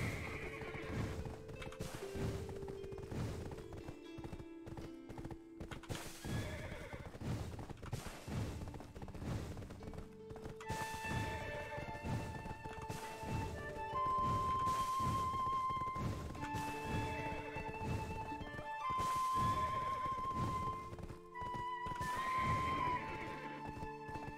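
A horse in the online role-playing game Black Desert Online neighs and whinnies repeatedly over a steady bed of game music, with no voices.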